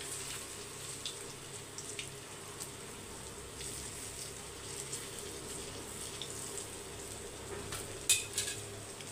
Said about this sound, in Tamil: நல்லா எண்ணெய் சூடாக இருக்குது. அப்போ இந்த வடையெல்லாம் நம்ம போட்டு எடுத்துக்கலாம்.